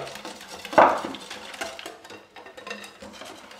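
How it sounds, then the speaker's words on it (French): A spoon stirs savory vegetable cake batter with milk and cornstarch in a bowl, giving one clear clink against the side followed by soft, steady scraping and mixing sounds up close, without talk. "Et on mélange jusqu'à obtenir quelque chose de bien homogène."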